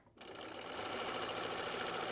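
A sewing machine stitching face masks starts up and runs in a fast, steady mechanical whir, close and continuous after a brief quiet moment.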